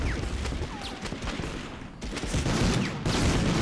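Dense bursts of gunfire from a Medal of Honor video game, rapid overlapping shots and volleys crackling loudly throughout with short pauses between bursts.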